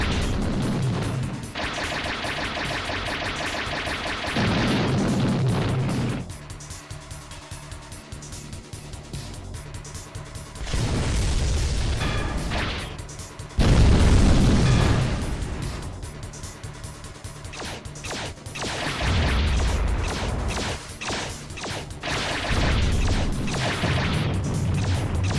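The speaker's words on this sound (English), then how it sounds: "Shockwave torpedoes." Shockwave torpedoes explode in the video game TerminalFury, sending out several loud, broad booming blasts separated by quieter stretches of rumbling game noise.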